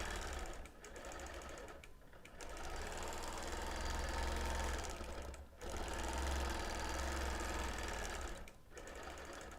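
Quilting machine running steadily through free-motion quilting on a birthday quilt, the stitching hum dipping briefly three times as the handlebars are guided, no talk.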